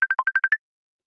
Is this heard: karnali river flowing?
no